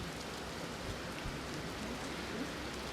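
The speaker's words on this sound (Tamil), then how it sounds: "நல்ல சரியான மழைங்க." Steady rain falls at the seaside in Thangassery, Kollam, Kerala, a dense, even hiss of drops on surfaces that stays constant throughout with no voices.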